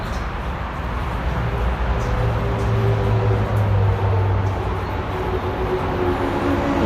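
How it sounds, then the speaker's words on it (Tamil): A train rolls past outdoors beside a busy roadway, its steady low rumble swelling in the middle and easing off, with traffic noise underneath and no talking. "ட்ரெயின்"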